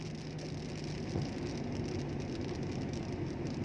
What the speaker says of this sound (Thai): ฝนตกครับ